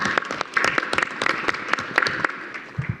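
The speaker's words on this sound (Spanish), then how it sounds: "Y un aplauso." Applause from an audience at a Día del Maestro education event, loud and sustained with dense overlapping claps and no voices, then fading out toward the end.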